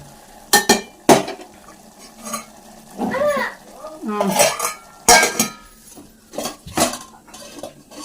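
Pots, pans and metal utensils clank and clink while tomato curry cooks in a home kitchen, with sharp irregular knocks, scrapes and stirring at close range and no talk.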